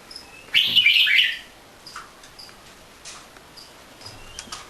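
White-rumped shamas kept for breeding in an aviary give a loud burst of bright, rapid chirping near the start, followed by scattered faint, short calls against a quiet background.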